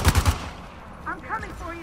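Rapid bursts of gunfire in an Uncharted 4 multiplayer match, three loud close shots opening the moment, followed by scattered game sounds and faint voices.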